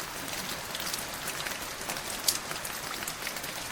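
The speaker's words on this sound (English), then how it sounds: "What sound does the rain make on the leaves of the trees?" Steady rain falls on the leaves of trees, a dense, even hiss of drops spread across the whole clip with one slightly sharper patter partway through.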